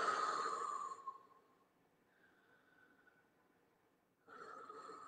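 Slow, deep breathing during a breathing demonstration: one long soft exhale, a quiet pause, then another inhale. The sound is faint and close, with no talk.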